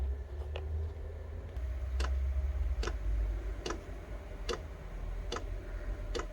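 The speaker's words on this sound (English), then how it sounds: "You'll hear the pump click in a bit." A Chinese diesel heater's fuel pump clicks steadily about once a second, sharp and close, over a low continuous hum with no talking.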